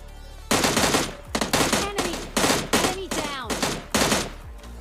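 An M16 fires in a battle royale video game in several sharp, loud automatic bursts separated by short gaps, each one followed by a brief ringing tail. The shots are close and carry no speech.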